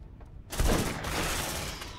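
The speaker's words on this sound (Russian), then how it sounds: "Давай с дробаша вот так вот бабахни." A shotgun blast in the sci-fi video game Aliens: Dark Descent, one loud sudden boom with a rough, noisy tail that carries on for over a second.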